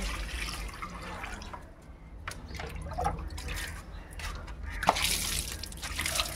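Water splashes and drips onto potted plants at home as someone waters them, intermittent trickles and small splatters close by, with no voices.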